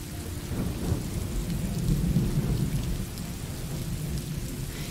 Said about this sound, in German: Oh nein, jetzt regnet's.